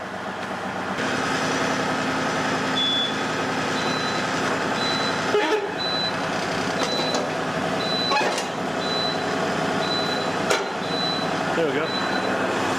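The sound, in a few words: LS MT240E tractor driving out after backhoe removal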